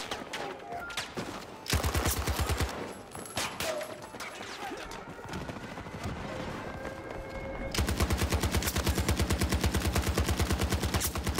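An M60 machine gun fires in Battlefield 2042, heard as loud, rapid, evenly spaced bursts, with a short burst early on and a long, sustained stream of fire at the end amid other distant battle sounds.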